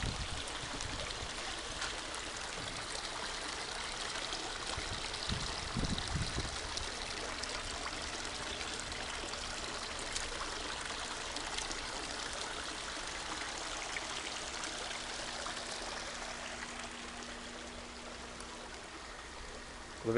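Water runs steadily from a pipe back into an aquaponics pond, a continuous soft, even trickle and splash heard from close by with no voices.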